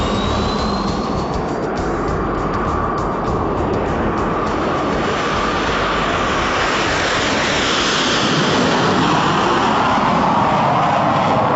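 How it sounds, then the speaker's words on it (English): Fixed-wing aircraft accelerating down runway 30 for takeoff, a steady loud engine roar with broadband rushing noise that holds throughout and swells slightly toward the end. "Runway 30, clear for takeoff. Roger, white 9's rolling."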